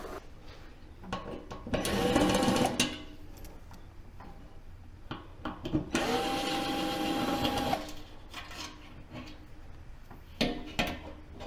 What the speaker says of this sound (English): this is actually held on by 3 stainless steel Phillips screws through the inside. Just take those out.